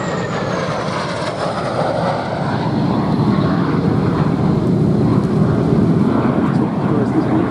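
A Gloster Meteor jet aircraft roars steadily nearby at an air show, a broad rumbling engine noise with a rising whine, growing slightly louder through the clip.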